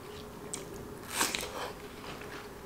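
Someone bites into juicy watermelon and chews it close to the mic, a soft wet crunch peaking midway over low room noise.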